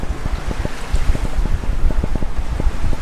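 A sailboat running downwind in the US Virgin Islands, steady wind rushing over the microphone with water sloshing and slapping against the hull in irregular low thumps.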